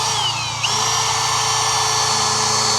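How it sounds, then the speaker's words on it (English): Power drill running steadily at slow speed with cutting fluid on the bit, a loud continuous whirring hum with one brief pitch shift early on and no talking. "We'll change down to slow speed on the drill, drilling fluid or cutting fluid on the bit,"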